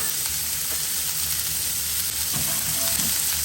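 Fish and grapes sizzle steadily in a hot pan, a continuous close frying hiss with a few soft clinks and shuffles near the end, no voices.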